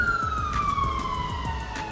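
A wailing siren sweeps downward in pitch, moderately distant, over a low rumble of traffic.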